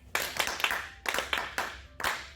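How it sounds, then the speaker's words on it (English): A class claps hands together in a photosynthesis lesson, making three quick bursts of several sharp claps each, close and fairly loud, with no talking. "Let's clap hands."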